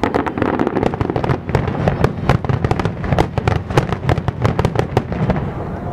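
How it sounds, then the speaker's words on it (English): A Diwali fireworks display at a Hindu temple crackles and bangs in loud, rapid bursts, dozens of sharp pops overlapping continuously with a rumbling undertone. "loud fireworks going on in the background"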